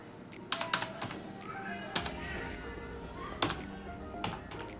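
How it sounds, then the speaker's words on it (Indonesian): Quick bursts of clicking keys on a computer keyboard while an Excel formula is typed, close and fairly quiet, with irregular clusters of taps and short pauses between them. "kalian juga bisa langsung ketikkan seperti ini"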